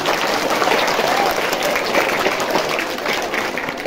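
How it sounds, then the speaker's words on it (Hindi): Dense, loud applause from a school audience at a student award ceremony, steady clapping from many hands throughout with no break. "पहले एक बार जोरदार तालियां सुनाइए हमको"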